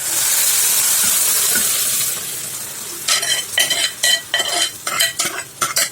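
Onions, tomatoes and cooked mutton intestine curry sizzle steadily in a pan, then a spoon stirs them in repeated scraping, clattering strokes against the metal, close and loud.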